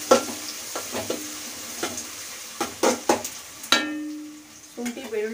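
Ginger garlic paste frying in a pan, with soft sizzling broken by repeated sharp clinks and scrapes of a spoon against metal, close and uneven, no talking.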